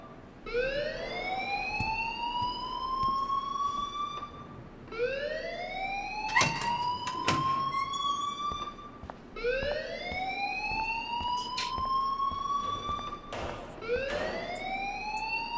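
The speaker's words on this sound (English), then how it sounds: "please turn off that alarm" An alarm blares in the video game Life Is Strange, a rising electronic wail that repeats about four times in a steady cycle, loud and continuous with no voices over it.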